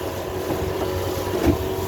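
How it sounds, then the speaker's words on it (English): A 2007 Smoker Craft boat runs on an old Mercury 18 XD outboard, giving a steady, continuous motor drone with water and wind noise on open water, with no voices. "Smoker Craft with an old Mercury engine"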